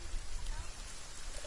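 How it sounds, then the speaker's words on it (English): Rain in the survival video game The Forest gives a steady, soft broadband hiss throughout, fairly faint and even. "Oh no, it's raining."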